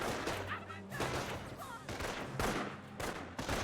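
Gunfire from Company of Heroes, a World War II strategy game, where Panzer Grenadiers come under fire: bursts of rifle and machine-gun shots and dull booms, fairly faint, layered over a busy battle din with voices talking in between.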